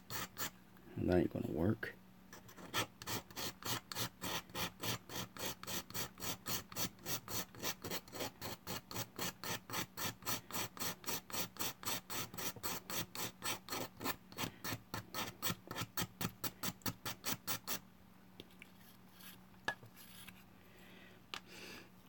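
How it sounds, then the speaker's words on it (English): A miniature model being scraped by hand gives a long run of quick, even rasping strokes, about sixty in steady rhythm, close and clear; someone speaks briefly just before the strokes begin. "And basically, I'm just scraping it like this."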